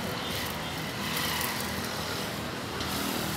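An old Mahindra 265 tractor engine runs at a steady idle nearby, producing a continuous even rumble throughout with no speech.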